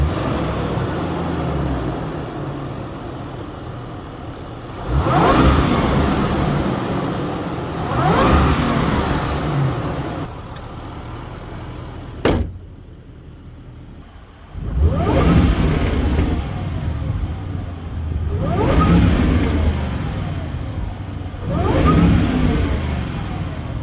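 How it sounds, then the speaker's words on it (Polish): Supercharged 5-litre V8 in a 2023 Land Rover Defender revs hard in repeated bursts, each a rising roar with supercharger whine that falls back to a rumbling idle, loud and close with no talk. "Ach, ten kompresor cudnie wyje. Jakby tego było mało, to ten wydech grzmi równie dobrze."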